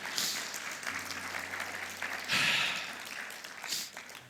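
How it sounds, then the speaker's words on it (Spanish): A church congregation applauds with a sustained wash of clapping that swells midway and then fades, with a faint murmur of voices underneath. "Den un aplauso al Señor por eso."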